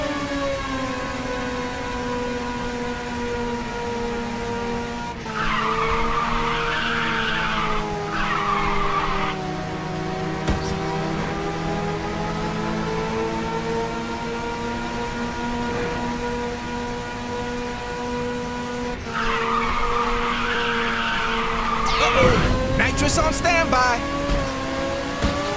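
In the Ridge Racer 6 racing game on Xbox 360, a race car's engine drones steadily while tyres screech in drawn-out skids through drifts, with a game announcer's voice briefly heard over the action.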